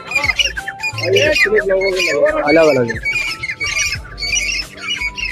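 Partridges give repeated harsh, squawking calls in quick bursts, loud and close, at a busy bird market in Karachi, while someone speaks briefly over them.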